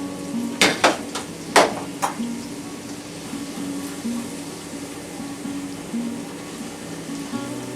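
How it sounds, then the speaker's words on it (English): Corn tortilla frying in a skillet of hot oil, with a steady sizzle and several sharp metallic clatters early on as the pan is shaken, then continuous quieter frying. "Heat a skillet of oil and place tortilla in it. As you fry the tortilla, shake it."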